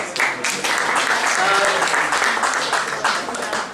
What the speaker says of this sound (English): Round of applause please for our panel